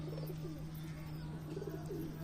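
Deshi Giribaz pigeons drinking water coo softly in repeated low, rolling phrases, fairly faint over a steady background hum, with no talking.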